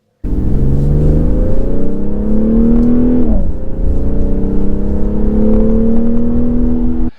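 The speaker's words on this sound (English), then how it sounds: "much more satisfying engine noise in the cabin" Inside the cabin of a BMW X3 M40i, the turbo inline-six revs up loudly and steadily, dips briefly as the revs drop, then pulls back up into a sustained, close engine drone until it fades at the end.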